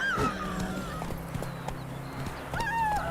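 Roach, a horse in The Witcher 3, gallops with steady clip-clop hoofbeats under game music, punctuated by loud whinnies at the start and end.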